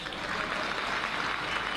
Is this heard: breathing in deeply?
no